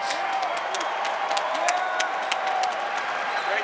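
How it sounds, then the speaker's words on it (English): Crowd applause and cheering for two featherweight fighters after a bare-knuckle fight night bout in Michigan, a steady wash of clapping and whoops that holds throughout. "let's have a round of applause for these 2 featherweight warriors"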